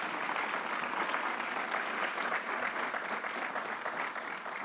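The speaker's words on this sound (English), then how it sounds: "Let's give Carol Mason a round of applause." Steady audience applause at a public event with the governor, a dense, even wash of clapping that stays fairly faint and distant for the whole stretch.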